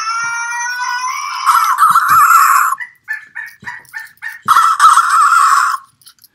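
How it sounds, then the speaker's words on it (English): Grimlings toy by WowWee crowing like a rooster: a loud, close electronic cock-a-doodle-doo, then a quick series of short clucking chirps, followed by a second crow, with no talk. "What's this cockadoodle do, like a chicken?"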